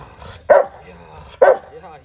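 A Rottweiler gives two loud, sharp barks on command, about a second apart, close to the microphone. The gaps between them carry only quiet room sound.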